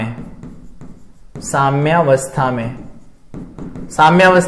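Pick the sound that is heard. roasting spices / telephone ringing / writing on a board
writing on a board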